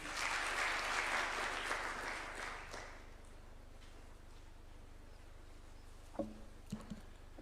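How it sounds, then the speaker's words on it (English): Applause from a crowd at a State House bill-signing ceremony fills the first three seconds, then fades into quiet room tone with a few faint knocks and taps near the end. "A clap for him, please."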